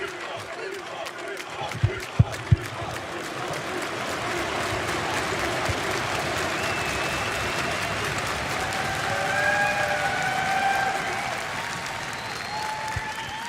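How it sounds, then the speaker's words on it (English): Big arena crowd at the 2018 EU LCS Spring Split grand final, G2 Esports vs Fnatic, roaring with sustained applause and cheering for player Bwipo, a dense steady wash of clapping that swells slightly midway, with brief louder knocks near the start. "I think this reaction from the crowd pretty much sums it all up"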